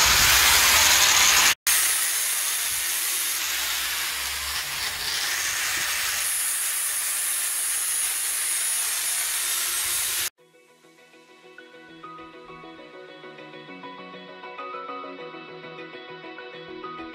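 Sanding a wooden balcony railing makes a loud, continuous abrasive hiss close by for about ten seconds, with one brief break, before it stops and soft music takes over.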